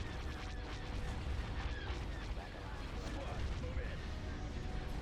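Starship laser cannon fire in the space strategy game Star Wars: Empire at War, a dense continuous barrage of booming blasts with radio voice chatter running under it.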